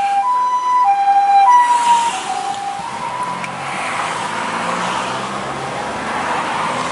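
Passing ambulance on a highway drive between Sapporo and Sounkyo in Hokkaido, its loud two-tone siren ringing out for about two seconds before fading under steady road rumble heard from inside a car.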